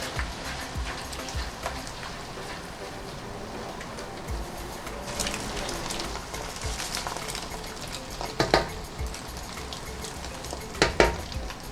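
Egg being scrambled and stir-fried with chili and shallots in a pan gives a steady, close sizzle, with a few sharper scraping stirs toward the end. No one speaks.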